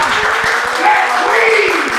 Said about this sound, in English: y'all start clapping right now